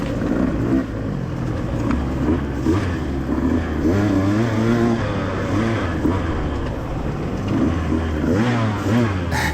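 A 2-stroke dirt bike at a fun pit race track, its engine loud and close, revving hard with rising and falling pitch as it is held at full throttle through the gears.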